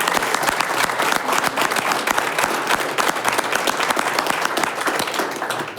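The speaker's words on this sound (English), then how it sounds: "let's give a round of applause to Deanne Mickelsen" Sustained applause from a council meeting audience honoring retiring city clerk Deanne Mickelsen, dense steady clapping filling the room throughout at full loudness.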